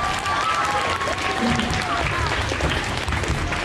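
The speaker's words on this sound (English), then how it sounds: "Give yourselves a round of applause." A group of children gives themselves a round of applause at a school reading challenge event, busy crowded clapping mixed with voices and movement, steady and fairly close throughout.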